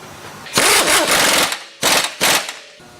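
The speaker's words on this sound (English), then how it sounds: "Now we're going to go ahead and tighten up the lower shock mount." Pneumatic impact wrench tightening the lower shock mount on a car suspension, with a longer rattling burst followed by two short hammering bursts.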